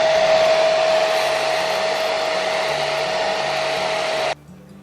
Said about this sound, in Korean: 드라이기로 해가지고 금방 말렸습니다.